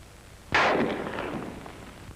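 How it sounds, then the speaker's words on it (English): A sharp crack of a rifle bullet passing by, a single sudden burst followed by a short decaying rush and echo, loud and alone. "The first thing he hears is the sound of the bullet in flight."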